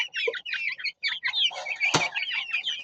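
Native village chickens cluck busily and close up as they are let out of a cage one by one, with a brief burst of flapping wings partway through.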